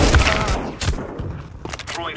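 Rapid gunfire bursts in Counter-Strike 2 on the Mirage map, several close sharp shots clustered early then a couple more near the end, with player voices talking alongside.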